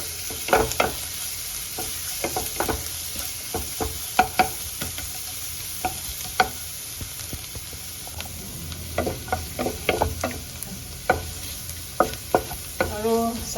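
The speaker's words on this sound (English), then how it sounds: "add the chopped garlic and dry red chili also. We'll fry till it turns in golden brown" Chopped garlic and dry red chili fry in a pan for spicy garlic pork, a steady close sizzle broken by frequent sharp clicks and scrapes of stirring, with a brief rattling burst near the end.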